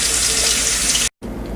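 Steady, loud running water from a kitchen faucet splashing over a raw turkey being rinsed, with a brief full stop near the end before the flow resumes.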